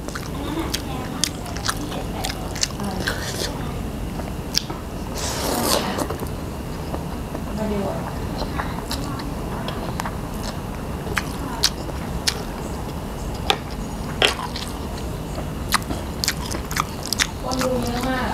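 Crispy spicy squid salad eaten with bitter gourd, loud close crunching bites scattered across the whole stretch, with talking and mouth noises in between.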